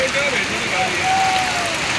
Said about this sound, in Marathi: फार जोरात धुमाकूळ चालू आहे पावसाचा